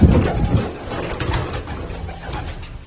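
Pigeons cooing outdoors at a pigeon-flying contest, a steady layered murmur of low throaty coos from several birds close by, continuous throughout with no talk.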